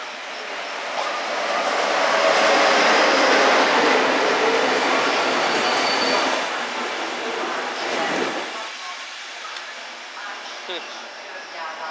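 A train passes through Kelenföld station in Budapest with a broad, loud rumble of rolling wheels that swells over the first seconds, holds, then eases with a brief squeal and fading rail noise.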